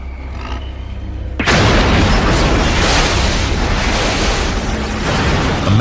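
A sudden loud crashing boom bursts in after a quiet stretch as a large truck smashes through another truck, followed by a sustained heavy roar of grinding, rumbling impact noise.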